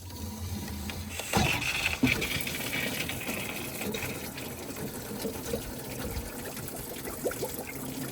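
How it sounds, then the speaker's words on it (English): Garden hose water gushes steadily through a removed Ford F150 water pump and engine coolant passages, flushing out rust and metal chunks in a continuous close splashing flow. "I'm gonna run our regular hose through it and flush it out completely"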